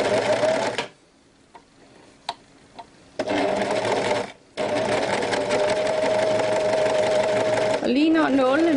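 A sewing machine stitches a rib knit V-neck neckline in long loud runs of fast, even whirring, with a pause of small clicks between, and someone talks near the end.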